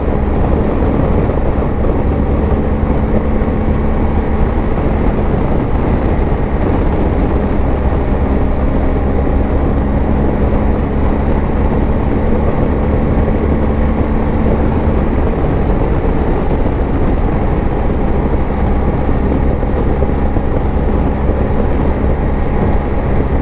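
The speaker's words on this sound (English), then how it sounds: "This engine and the way this transmission is set up, this thing keeps pulling." BMW R1250 GSA motorcycle riding on back country roads, a continuous loud engine drone blended with heavy wind rush, steady and unbroken throughout with no voices.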